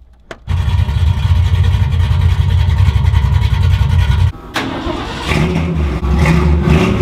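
A loud 1971 Ford F100 pickup truck engine cranks and fires up, then settles into a heavy rumbling idle with throttle revs, briefly dipping before surging again close by.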